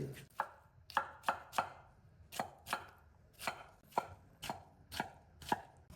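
A knife chops cucumber into small pieces on a board, about fourteen crisp, close taps in an uneven rhythm against a quiet background.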